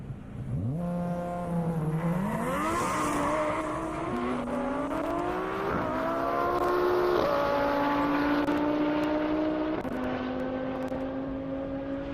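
A Mercedes-AMG E63S launches hard down a half-mile airport drag strip, its engine howling through rapid upshifts with rising pitch after each gear change, loud and close before steadily pulling away.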